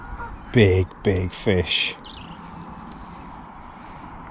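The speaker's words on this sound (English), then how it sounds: "And some big swans and some ducks." Swans and ducks on a lake at Himley Hall give a few loud, close honking calls in quick succession, followed by faint distant chirps over a steady outdoor background. Someone speaks briefly.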